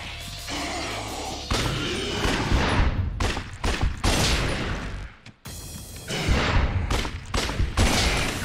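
Bursts of gunfire ring out in the video game Lost Judgment, loud clustered shots and crashing impacts in several volleys separated by short gaps.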